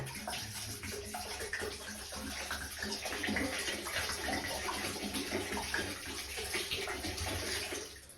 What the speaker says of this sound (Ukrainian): це все я дуже легко виливаю в унітаз